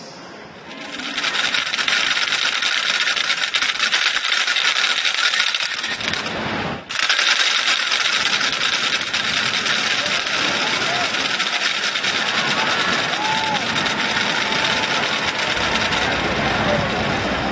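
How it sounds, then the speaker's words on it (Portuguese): Matracas, wooden rattles with a metal part, sound at a religious procession of the Via Sacra in Rio: a loud, continuous, dense clattering rattle that fills the scene, with a brief break near the middle. "Esse som que você está ouvindo é o som das matracas"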